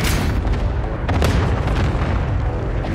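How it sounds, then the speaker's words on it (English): Airstrike explosions in Call of Duty: Modern Warfare rumble as dense, continuous booming blasts with a loud sustained roar, several bursts overlapping with no break. "Position marked, airstrike, hit it!"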